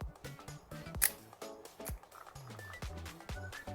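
A Rolleicord twin-lens camera has its shutter released at 1/60 second, giving one short, sharp click near the start while someone talks throughout.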